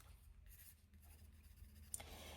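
Pencil scratches across paper at a crafting table, soft close strokes in quick irregular bursts, faint and alone.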